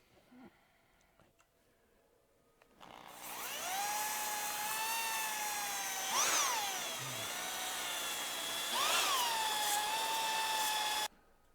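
A koa wood natural edge bowl is sanded with 220 grit on a spinning lathe, producing a loud, steady whine with a tonal hum that starts abruptly and runs continuously, with two brief pitch swoops as pressure shifts, then cuts off.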